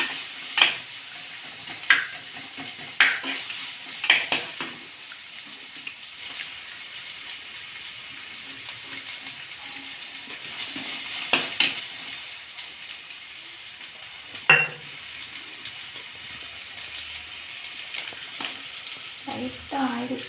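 Onions sautéing in oil for a potato fry, a steady soft sizzle broken by several sharp spatula scrapes and clicks against the pan, moderately close with no talking.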